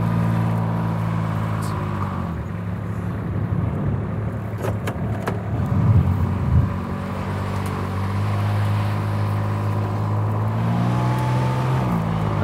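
A Kubota RTV X utility vehicle drives with a steady low engine drone, its pitch rising and falling as it changes gear from high to low range.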